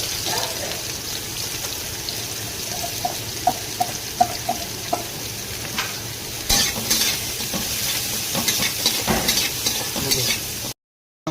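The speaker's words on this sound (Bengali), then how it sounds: "অল্প পরিমাণ সরষের তেল, তখন দিয়ে দেবো 5 ফোড়ন, অল্প দেবো। আগে থেকে কাটানো পেঁয়াজ দিয়ে দেবো।" Onions and panch phoron frying in a little mustard oil for a fish mustard curry, a steady sizzle with scraping stirs and clinks of a spoon, loud and close, ending abruptly.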